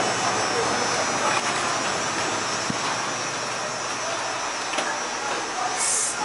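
A GC Jones holeless hydraulic elevator at a rail station runs steadily during a ride, giving a constant broadband hum and whir from start to finish with a few faint clicks.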